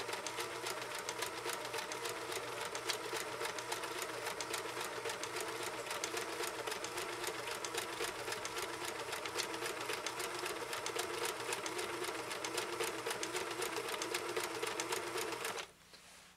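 A 1974 Kenmore 1050 sewing machine runs in one steady, fast, even stitching drone for about fifteen seconds, close and loud with no talk, then stops abruptly near the end.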